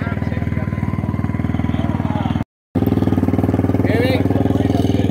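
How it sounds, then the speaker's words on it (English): A small motorcycle engine idles loudly up close, with a fast, even throbbing putter that holds steady for the whole stretch apart from one brief dropout, while someone talks over it. "It's really loud to be so little. That bike sound like it's a big bike."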